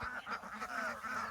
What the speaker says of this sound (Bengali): এই যে লাইন ধরে যাচ্ছে হাঁস